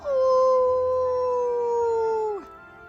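A single long dog howl, steady and sustained for over two seconds before dropping off, close and clear with no talk.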